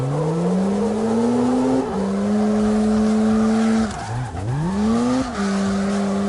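A car drifting in a driving game, a steady high-revving engine drone that drops and wavers as tires squeal and the car spins out, then recovers to a steady rev.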